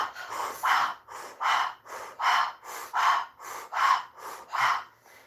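Deep belly breathing in a guided breathwork exercise: a steady run of about six slow, loud inhale-exhale cycles, close and alone with no talking.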